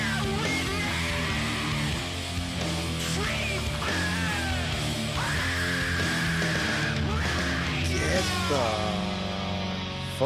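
A harsh, sustained scream rises over a dense rock song with heavy distorted guitars and pounding drums, the whole mix loud and unbroken from start to finish.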